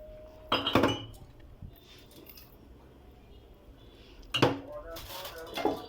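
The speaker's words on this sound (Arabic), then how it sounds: "يا دوب هغسل المواعين اها." Dishes, pots and pans clatter and clink in a sink during washing, two brief bursts of metallic knocking separated by quieter handling sounds, fairly close.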